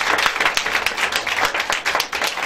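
A church congregation at a prayer gathering claps and applauds to acclaim Jesus, a lively, close, continuous patter of many hands with a few scattered voices mixed in.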